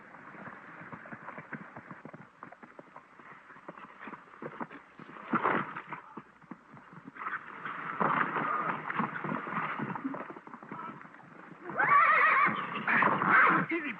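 A horse neighs and whinnies several times in a 1930s Western scene, the calls growing louder and more agitated toward the end, with faint clip-clop and some background talk.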